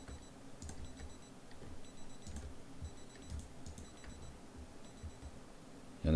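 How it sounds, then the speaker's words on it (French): A repeating electronic alarm beeps in short, regular bursts over low background rumble in the zombie survival game Project Zomboid, fairly faint and steady throughout. "Ah bah encore une alarme quoi."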